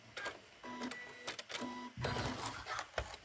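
A sewing machine stitches along the folded lines of a fabric star trivet, giving short mechanical whirring runs that stop and restart several times, close by and without talk.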